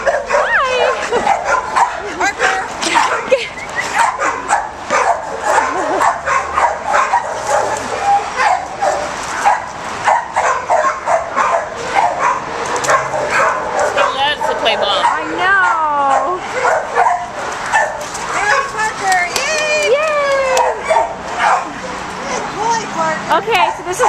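Dogs in a kennel bark, yip and whimper in a loud, constant, overlapping chorus close by, with people talking faintly underneath.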